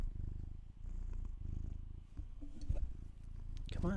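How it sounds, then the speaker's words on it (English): A pet cat purrs right up against a microphone, a loud, continuous low rumble with brief pauses, while a person talks softly over it near the end. "Okay, he's still purring."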